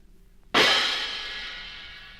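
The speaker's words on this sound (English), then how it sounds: "Let's hear those cymbals." A single bright cymbal crash rings out suddenly and shimmers, fading slowly over two seconds after a quiet start.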